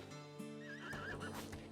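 A horse in the video game Rimworld whinnies with a wavering, descending neigh over a dense bed of game background sound, with faint hoof clip-clops mixed in.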